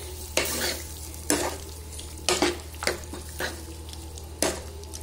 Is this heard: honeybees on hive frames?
no